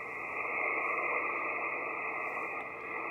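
Steady hiss and static from an amateur radio transceiver on SSB with no preamplifier, a constant band-limited noise with no voices, holding level throughout.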